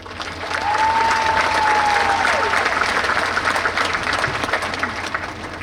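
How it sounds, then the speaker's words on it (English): Graduates at a high school commencement applaud, a dense, loud roar of clapping that swells quickly and holds steady throughout, with crowd noise mixed in and no speech. "So please, give yourselves a round of applause."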